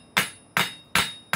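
A blacksmith's hammer rings on hot steel against an anvil in four evenly spaced, sharp, bright strikes with a short ringing decay after each blow.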